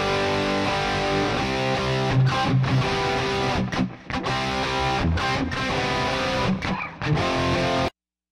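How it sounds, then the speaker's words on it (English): Heavy, distorted electric guitar chords are played through four layered mono amps set to high gain with bright tones, loud and sustained with a few rhythmic stops before cutting off abruptly. "For the heavy ending, I layered 4 mono amps on top with higher gain settings and brighter overall tones."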